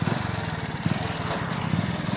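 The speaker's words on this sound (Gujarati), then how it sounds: "નોણાએ બાઇક ચાલુ કરી છે" A motorbike engine runs close by with a steady, rapid putter and a slight rhythmic pulse, alone with no voices.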